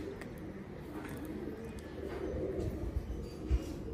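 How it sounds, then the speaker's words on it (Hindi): Soft, low pigeon cooing repeats in a steady murmur against faint background noise, with no talking. "ये दोस्तों स्कूल वाला कबूतर है,"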